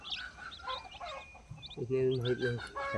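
Free-range country chickens cluck and chirp close by in short, busy bursts while foraging, with one bird letting out a longer, louder call near the end.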